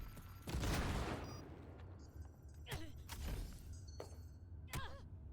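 A grenade blast and scattered gunfire in Cyberpunk 2077 combat, with a heavy boom early followed by sharp intermittent shots and impacts over a low rumble.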